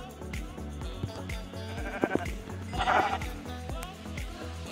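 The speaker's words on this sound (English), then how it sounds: "Come here, sheep!" Sheep bleat a couple of times in a Minecraft-style video game over a busy, repetitive musical backdrop with game-like tones and effects.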